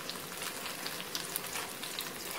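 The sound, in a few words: whole spices (cinnamon, cloves) frying in oil for tempering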